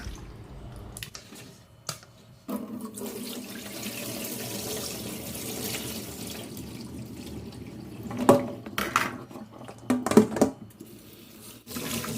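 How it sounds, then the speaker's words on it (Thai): Water runs steadily from a tap into a sink, splashing and trickling as mango slices are rinsed of salt water beneath it, with a few clinks near the end. "ต่อไปก็ไปล้างน้ำเกลือออกเลยค่ะ"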